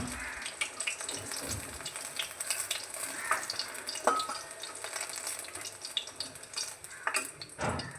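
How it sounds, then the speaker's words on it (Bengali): Eggplant slices frying in hot oil for a winter vegetable cauliflower-stem curry give a steady, moderate crackle and sizzle, with occasional utensil scrapes and stirring knocks throughout. "লাল লাল করে বেগুনটা ভেজে তুলে রাখছি আলাদা করে।"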